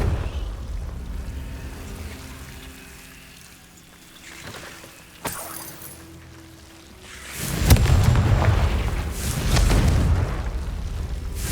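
In the game Hogwarts Legacy, a Confringo blasting spell bursts with a sharp crack and then a heavy rumbling explosion that swells loud and rolls on for several seconds.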